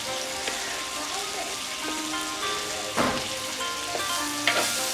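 Green chillies sizzling as they fry in a pan over a village cooking fire, a steady crackling sizzle with a few sharp stirring clatters and spits close by.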